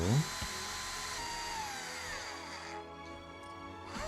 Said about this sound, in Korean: 나사 두 개 풀러주고요